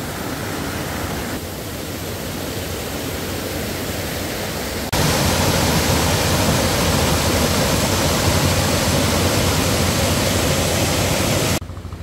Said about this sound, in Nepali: खोला चाहिँ निकै ठुलो आयो पानी पनि पर्यो डह्रो नै आज